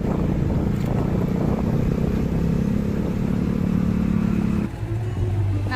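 Close, loud, steady engine drone from a motorcycle on the road, with rushing road noise throughout and a gear shift near the end.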